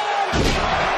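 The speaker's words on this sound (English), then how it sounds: "Shooting star press connects to the cover." A wrestler's shooting star press landing in a WWE ring during Ricochet versus Chad Gable, a sudden heavy slam against loud crowd noise, with a commentator talking over it.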